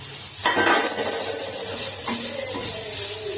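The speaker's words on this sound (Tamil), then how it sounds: "நான் அப்படியே போட்டு வதக்க போகிறேன்" Close-up sizzling and frying of bitter gourd pieces in a pan for pickle, with a spoon scraping and stirring the pieces, steady and fairly loud with no talking.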